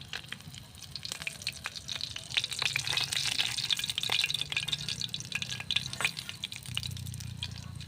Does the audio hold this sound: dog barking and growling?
no